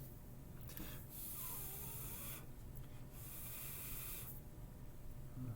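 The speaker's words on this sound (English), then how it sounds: "Drying it off a little bit on the paper towel." Paper towel rubbed over a wet pH test item to dry it, giving soft, close papery rubbing and swishing in two longer bursts with quieter gaps, no voices.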